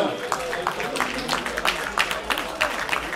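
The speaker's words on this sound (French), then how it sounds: "Merci d'applaudir quand même les joueurs qui ont livré un beau spectacle" Scattered applause rises from spectators after a 1-1 football match between USSU and FC Metz 2, fairly soft and uneven, with crowd voices and talk mixed in.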